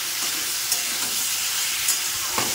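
Ridge gourd poppy seed curry with a pinch of turmeric fries in plenty of oil, giving a continuous close sizzle with a few soft scrapes of stirring at intervals.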